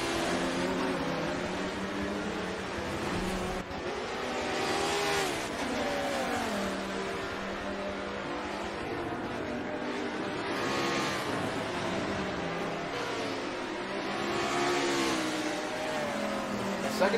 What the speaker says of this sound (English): Second and third spots are held by two fellow Audi R8s, them being Osiris and Mini Mike.